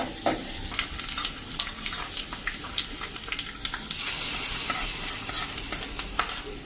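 Hot oil tempering sizzles and crackles close by as it hits a thick cracked-wheat idli batter, with soft stirring clicks and pops fading toward the end.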